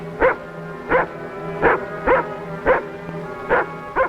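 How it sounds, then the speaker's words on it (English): A dog barks in a steady series of six sharp woofs, evenly spaced about every two-thirds of a second, fairly close and loud over a low background hum, with no talk. "Can't you keep that mutt quiet?"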